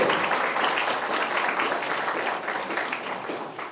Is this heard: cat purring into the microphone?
no